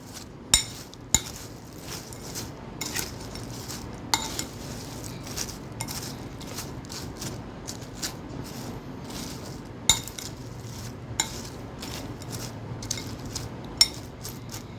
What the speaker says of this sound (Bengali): এবার এটাকে আমি ভালো করে মিশিয়ে নেব যাতে মশলাটা ইউনিফর্মলি মিক্স হয়